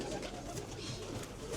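A gold sulfur blondinet pigeon coos softly and close by in a loft, low throaty murmurs rolling on without a break.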